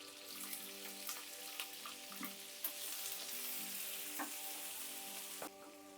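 Chopped onion and green chili sautéing in a hot oiled pan, a continuous soft sizzle with occasional stirring taps and scrapes, fairly quiet and steady, no talking.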